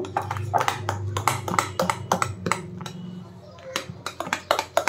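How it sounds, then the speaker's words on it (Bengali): Lentil paste is whisked vigorously in a bowl. It makes a quick, uneven run of clinks and clattering taps, close and steady, with brief pauses and a faint voice in the background. "5-7 মিনিট ধরে আমি এই ডালের পেস্টটা এইভাবে ফেটাচ্ছি।"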